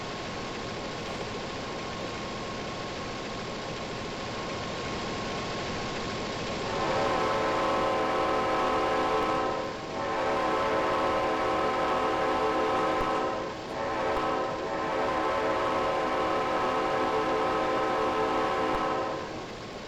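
EMD E8A diesel locomotive in Train Simulator Classic, its engine winding up to a steady, louder drone. Horn-like tones sustain over the rumble, with two brief dips along the way.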